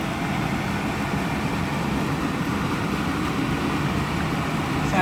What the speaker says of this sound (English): Sorry about the noise of the fan.